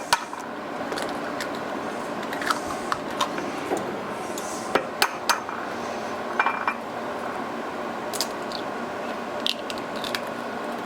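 Three large eggs cracked against a bowl for a sweet potato casserole, heard as scattered sharp taps and clinks over a steady background hum, close and intermittent.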